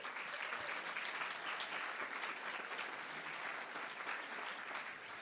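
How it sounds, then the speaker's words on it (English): Sustained audience applause fills a graduation pinning ceremony hall for education graduates, a dense, steady wash of many hands clapping at even loudness throughout, with no talk over it. "let's give you all a round of applause."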